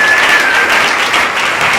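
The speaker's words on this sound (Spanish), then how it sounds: "Denle un aplauso bien fuerte a nuestro Señor y Salvador Jesucristo." A church congregation claps loudly together in a brief, dense burst of steady applause.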